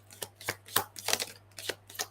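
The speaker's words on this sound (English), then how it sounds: "I'll just shuffle some cards." Tarot cards being shuffled by hand during a live psychic reading, giving a run of quick papery riffles and slaps in irregular bursts, close and fairly quiet, with no talking.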